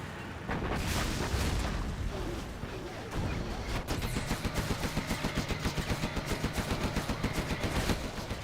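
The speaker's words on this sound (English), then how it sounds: "Artillery comes in, it is on the airfield" Artillery in a real-time strategy game shells an airfield, with heavy booms giving way to a rapid, steady train of repeated shots that carries on to the end, under a caster's commentary.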